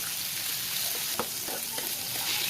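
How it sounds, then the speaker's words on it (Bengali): Fish, potatoes and tomatoes fry in oil in a pan over medium-low heat, a soft continuous sizzle with occasional light clicks from stirring, no voices. "প্যানে তেল দিয়ে আমি মাছ, আলু এবং টমেটোগুলো ভেজে নিব।"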